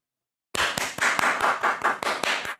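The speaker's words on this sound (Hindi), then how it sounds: "तालियां तालियां भाई" Hands clap about nine times at a steady, fairly quick pace, sharp and close, with no other sound around them, after a moment of silence.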